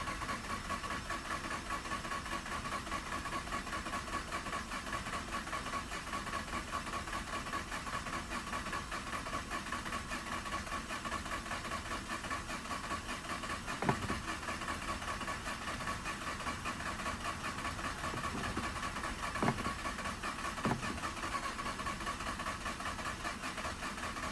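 A Mazda RX-8 rotary engine cranks on and on without catching. The sound is a faint, steady mechanical churn with a couple of brief knocks, and no one speaks over it.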